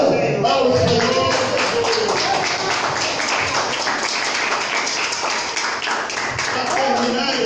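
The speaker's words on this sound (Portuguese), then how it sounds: "Aplauda ao Senhor." Church congregation clapping and applauding together during a worship service, a steady dense wash of hand claps held at one level throughout, with voices mixed into the crowd noise.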